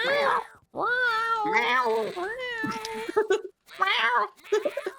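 A person imitates a cat with a run of drawn-out, wavering meows and yowls, loud and close, broken by short pauses.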